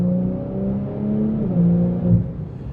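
A 992.1 Porsche 911 Turbo S pulls at full throttle, its turbocharged engine note rising in a steady, smooth roar for a few seconds from inside the car.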